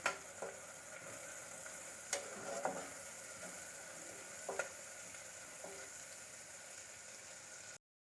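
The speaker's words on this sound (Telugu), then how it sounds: "ఆనియన్ పచ్చిమిర్చి మంచిగా వేగినాయి కదా" Onions, green chilies and curry leaves frying in a pan with a steady sizzle, broken by a few louder scrapes and clinks of stirring, then silence at the end.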